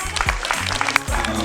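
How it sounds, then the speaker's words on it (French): Applause from the audience at the opening of an award ceremony, a short stretch of clapping mixed with low hum and voices nearby. "Sous vos applaudissements"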